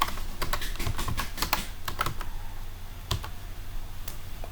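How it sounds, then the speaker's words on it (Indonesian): Fingers type on a computer keyboard while code is entered into a terminal, a quick irregular run of close, crisp key clicks with short pauses between bursts. "Kita ketikkan function"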